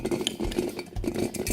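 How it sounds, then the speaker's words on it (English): Peeled garlic cloves tumble into a big glass jar for honey fermentation, a quick run of close, hard clinks and rattles against glass. "Put the garlic in the jar."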